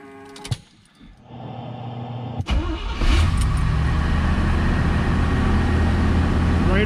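A 1971 Corvette LT-1 engine cranks and catches, then settles into a loud, steady high idle, recorded close with a few clicks and a short burst of talk before the start.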